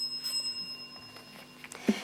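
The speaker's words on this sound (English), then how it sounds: "that bell signifies the end of section 1" A bell rings at a junior school quiz competition, a thin ringing tone sustained early on and a sharper strike near the end, moderately loud in a quiet hall.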